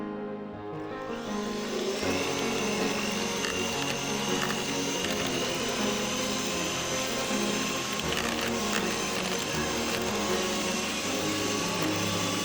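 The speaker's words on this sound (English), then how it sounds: "You add 2 egg yolks, 5 spoons of sugar. You mix that very well." Electric mixer or blender whirring steadily as egg yolks and sugar are beaten together for a homemade dessert, a loud continuous motor drone lasting throughout with no talking.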